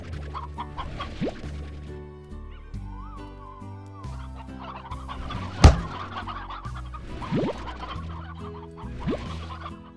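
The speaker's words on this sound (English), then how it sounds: "Look at all these chickens!" Chickens in the video game Slime Rancher cluck and gobble repeatedly in a busy, overlapping flock, loud and close, over soft in-game background music, with one sharp impact sound near the middle.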